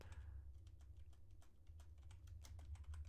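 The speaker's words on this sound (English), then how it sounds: "I don't even know what I'm typing" Fingers tap out fast, irregular keystrokes on a computer keyboard, close and fairly quiet over a low steady hum, with no talking.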